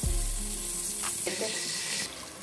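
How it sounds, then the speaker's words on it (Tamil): Mustard seeds splutter in hot oil in a pan, a steady sizzle with a few sharp pops and crackles close by. "இப்போ பாருங்கள் கடுகு பொரிஞ்சிருச்சு"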